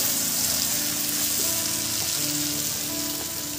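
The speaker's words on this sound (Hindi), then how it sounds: "अभी इसमें पानी डाल देगा" Water hits pork frying in a pan with fermented mustard leaf, setting off a steady, dense sizzle that hisses close and continuously throughout, with no talking.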